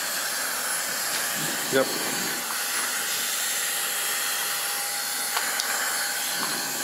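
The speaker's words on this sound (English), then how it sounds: "I think first impression is a very strong hair dryer." A Roidmi Miro hair dryer runs with a strong, steady, close airy whoosh that holds for the whole stretch, and a person briefly says a single word over it.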